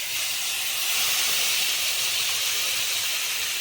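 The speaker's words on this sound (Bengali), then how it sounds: "এবার আমি তাতে ম্যারিনেট করে রাখা মাছটা দিয়ে দেবো।" Marinated mourala fish slid into hot oil over fried onions gives a loud, steady, even hiss that holds unbroken throughout, with no voices over it.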